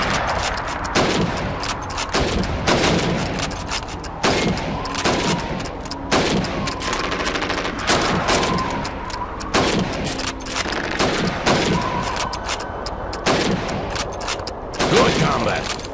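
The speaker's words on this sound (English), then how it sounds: "You have 15 seconds to shoot the helmets." Rapid rifle gunshots in Call of Duty 2, fired at helmets during a timed training drill, sharp reports cracking repeatedly in quick irregular bursts over roughly fifteen seconds, with faint game voices beneath.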